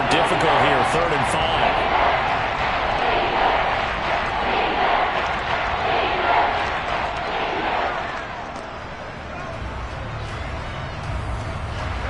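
A Seahawks home stadium crowd in a Madden football video game roars steadily as a broad, loud wash of noise, easing slightly toward the end.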